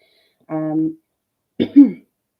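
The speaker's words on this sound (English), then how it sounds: "I've got a bit of a cold, so I've got a bit of a cough." A short voiced throat-clearing grunt, a brief pause, then a single rough cough, close and fairly loud, with nothing else around them.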